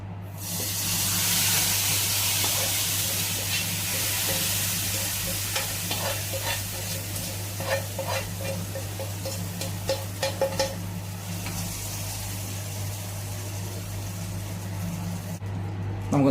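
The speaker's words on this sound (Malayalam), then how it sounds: "നമുക്കൊന്ന് ഇളക്കി ചേർത്ത് കൊടുക്കാം." Fried browned coconut is stirred into yam erissery in a pan, giving a steady close sizzle with soft scraping stir strokes that grow more frequent partway through.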